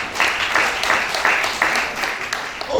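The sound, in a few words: congregation applauding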